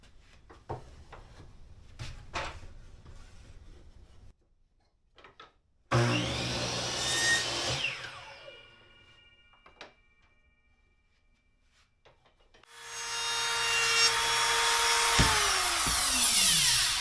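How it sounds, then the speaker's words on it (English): A power saw set against a stop cuts wooden parts to the same length in two bursts, each spinning up loudly, biting through the wood and winding down, with quiet shop clatter between. "I'm going to use my fancy saw stop to cut them all off the exact same"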